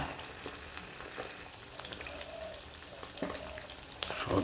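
Breakfast food fries in a pan on medium heat, a faint steady crackle and sizzle with a few soft taps and light stirring sounds, a little louder at the very end.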